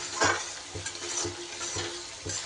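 Taro being sautéed in a pan, with steady sizzling frying broken by four or five regular scraping stirs close by and no voices.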